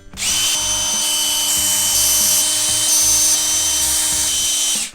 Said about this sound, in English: And of course you can just stick in the screws, and then you just screw it in.